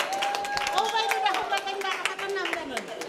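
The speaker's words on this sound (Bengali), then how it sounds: "সকলে একটা বড় করে হাততালি দেন" An audience at the Omorabati Milon Mela 2022 gives a loud round of hand clapping that runs throughout, mixed with crowd voices and chatter and a sustained tone underneath.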